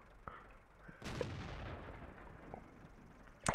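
Gunfire in a competitive 3-on-3 online shooter match: a single sharp shot around the middle rings out and decays over a second, with faint clicks before it and another abrupt burst at the very end, all fairly quiet.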